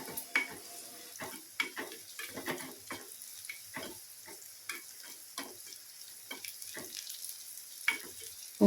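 Garlic cloves fry in oil in a pan for pirandai chutney. A soft frying hiss sits beneath frequent clattering spatula strokes against the pan, spread irregularly across the whole stretch.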